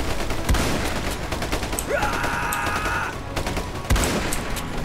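Shotgun blasts in Ultimate Epic Battle Simulator boom out over dense continuous battle gunfire, with a few heavier close shots standing out amid the sustained fusillade.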